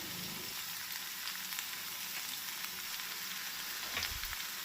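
Tomatoes frying in a pan for bun dosa, a steady close sizzle and crackle running throughout with no voices, rising briefly near the end as the pieces shift.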